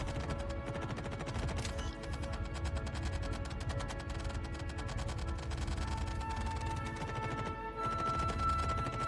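Gunfire in the video game Star Citizen, rapid mechanical rattling bursts layered with ratchet-like clicks and droning engine tones, continuous and fairly loud throughout.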